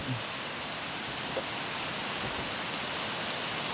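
Steady rain falls at night, a dense even hiss with no breaks, heard alone without voices.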